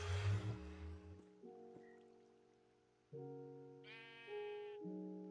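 Sheep bleating, a synthetic sound effect of repeated bleats layered over sustained musical tones, with a higher, brighter bleat near the end; no voices.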